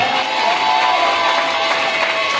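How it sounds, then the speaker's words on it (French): A church congregation cheers and shouts praise together during a worship service, a dense continuous roar of many voices and whoops at steady loudness throughout. "dis Amen fort en acclamant le Seigneur"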